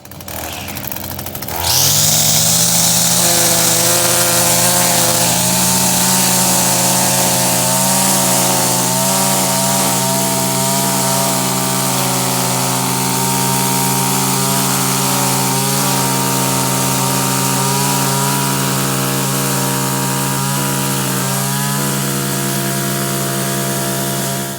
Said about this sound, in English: I'll cut it back a little bit with a string trimmer